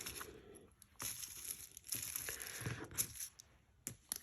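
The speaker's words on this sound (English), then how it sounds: "So I'd get some tissue paper" Tissue paper crinkled and crumpled by hand close up for papercraft layering, with bursts of bright rustling, soft tearing-like crackles and short pauses in between.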